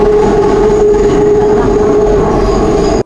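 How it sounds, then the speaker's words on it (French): Paris metro train cars grind through a curve with a loud, sustained metallic wheel screech, a steady high squeal riding over the rumble of the cars close by. "Le crissement des rames dans les courbes, parfois insupportable."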